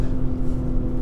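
A 2019 BMW X4 M40i engine, partly synthesized, accelerating hard as a steady low, throaty rumble with a sustained tone that stays loud and even throughout.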